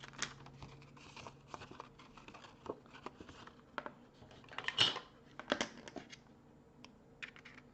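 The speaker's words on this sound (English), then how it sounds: "Put my cutter at 7/8 of an inch and cut down to" Paper trimmer slicing through card stock for a corner fold card, a series of close scraping, crinkling cuts and light taps of paper handling, quiet and irregular with no talking.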